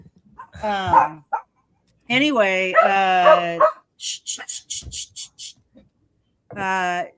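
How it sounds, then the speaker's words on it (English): Short, yappy barks come in quick bursts, then a rapid string of sharp yips, with a voice speaking briefly between them. "pardon the dog barks."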